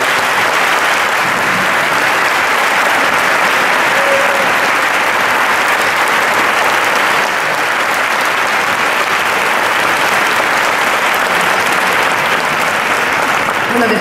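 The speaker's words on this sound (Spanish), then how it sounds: "Fuerte la aplauso, por favor." A large audience applauds at a company's 25th anniversary event, with dense, loud, continuous clapping that holds evenly throughout.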